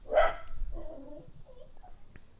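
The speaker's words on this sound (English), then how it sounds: "the dog that's barking right now, Kramer, the corgi." A corgi in a backyard lets out one loud, close bark, then a few softer whimpering yips and small noises trail off over the next two seconds.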